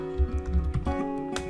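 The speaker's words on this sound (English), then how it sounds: "I'm actually typing and I'm able to hit tab while I'm typing" Fingers typing on a computer keyboard while entering commands in the Windows Command Prompt, a quick uneven run of soft clicks and taps, close and moderately loud over a steady low hum.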